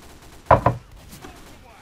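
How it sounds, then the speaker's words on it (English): Two quick, sharp gunshots go off close together in Team Fortress 2 on the Orange X3 map, followed by faint game background noise. "Who's shooting here?"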